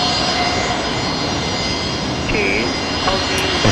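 Qantas jet airliner on approach to Brisbane Airport, producing a steady, loud broadband roar that holds at constant intensity for the whole few seconds, with faint tonal whines over it.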